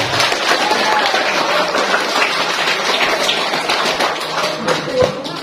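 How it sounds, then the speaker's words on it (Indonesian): A classroom group applauds during a school orientation session on school rules, with sustained, dense clapping close by that holds steady throughout, with scattered louder claps near the end. "Baru beri aplaus dulu."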